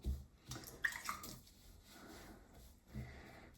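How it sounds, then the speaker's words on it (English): Water is poured by hand onto a layer of wool laid out for wet felting, heard as soft, close splashes and wet squishing at a low volume. "Soaked my hands up, poured some water on,"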